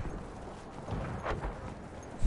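Horse hooves clip-clopping in the video game Battlefield 1, a faint, rapid thudding gallop buried in a dense wash of battle noise.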